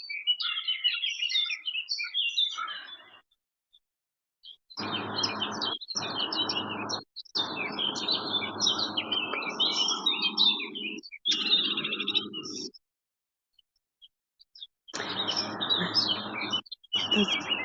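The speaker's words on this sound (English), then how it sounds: "Those birds" Birds chirp and tweet in a forest during a walk to gather nettles, bright repeated calls in bursts broken by short silences, with a low rustling or rushing sound under several stretches and no talking.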